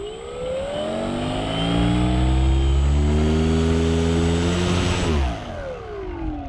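Small electric motor on a foam Edge 540 RC airplane with a slightly loose mount, revving up with a rising whine, holding at full power for a few seconds, then spooling down.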